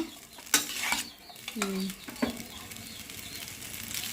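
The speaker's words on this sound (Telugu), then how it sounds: "అలా గెంజుతో అయితే బాగా కలిపి కలిపేసుకున్నాం బాగా" A ladle stirs veg noodles in oil in a pan. A handful of scraping strokes sounds over a soft, steady sizzle, with a brief high chirp in the background.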